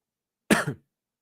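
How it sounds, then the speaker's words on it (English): A single short cough, close and loud, in otherwise silence. "I don't know why I'm coughing."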